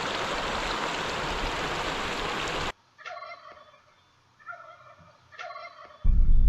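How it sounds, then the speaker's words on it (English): Wild turkeys gobble near a campground in Great Basin National Park, Nevada: a few loud, rattling calls in separate bursts after a stretch of steady rushing stream noise, which cuts off and then returns at the end. "Got some wild turkeys up here."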